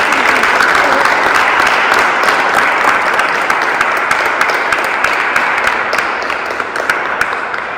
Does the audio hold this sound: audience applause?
yes